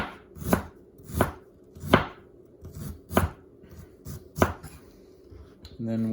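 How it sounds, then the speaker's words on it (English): A knife slices through ginger on a cutting board in six distinct, evenly spaced chops, each a crisp close thud, then a brief clatter at the end. "an easy way to do ginger, I would say, is just to give it some slices"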